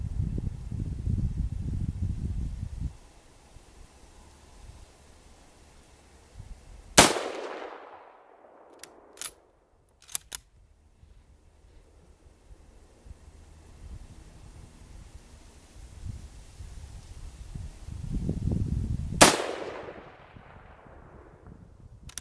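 A Mosin-Nagant 91/30 rifle fires at a target 100 yards away outdoors: two loud, sharp reports about twelve seconds apart, each trailing off in a long echo. Faint clicks of handling fall between the shots against a quiet background.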